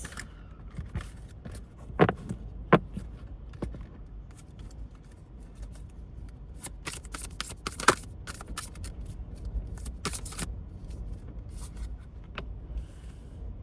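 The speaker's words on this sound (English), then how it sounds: "we'll get some Archangel Michael cards" Archangel Michael oracle cards being shuffled by hand, a soft steady riffling with a few sharper snaps and taps standing out, close and fairly quiet against a low background hum.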